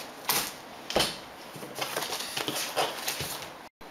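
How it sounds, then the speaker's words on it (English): Close, crisp snipping sounds at an irregular pace, small detail scissors cutting through cardstock over a faint background hiss. "Use my little detail scissors to just cut in and around here."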